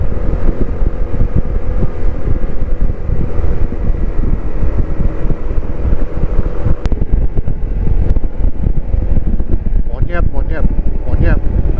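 A touring motorbike on a climb toward Sembalun, Lombok, its engine droning steadily under heavy wind buffeting on the microphone, with a rider speaking over it near the end.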